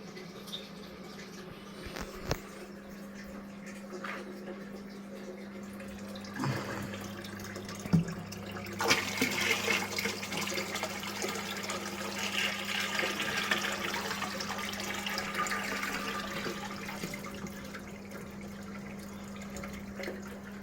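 Water is poured from a bucket into a large fish tank during a water change, a continuous splashing rush that grows fuller and louder after a few seconds over a steady low hum, with no talking.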